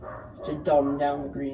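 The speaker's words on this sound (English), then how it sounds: "if you just hear barking in the background" A pet dog barks faintly in the background of a room, a few short yaps under ongoing close speech.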